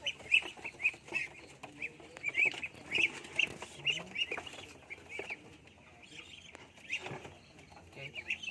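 Muscovy ducks at a nearly empty water trough give soft, repeated clucking and chirping calls at close range over faint rustling, and a voice speaks in between.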